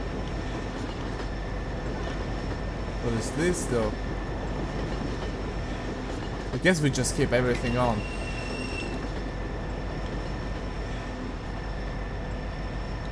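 A steady low rumble of a train running in Garry's Mod, continuous and even throughout, with someone briefly talking over it twice.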